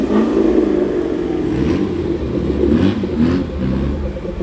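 An automatic car revs its engine at a car meet, a loud, close, throaty drone that swells and falls in a few moderate pushes, apparently held below high RPM.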